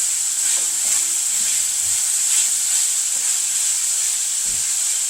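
Red cabbage with peppers and chicken sausage sizzles steadily in a pan as it is stirred, a constant bright hiss with faint scraping knocks underneath, no one speaking.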